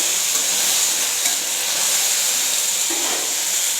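Potatoes tipped into a pan of chopped vegetables, frying with a loud continuous sizzle and hiss and some stirring, close up with no voices.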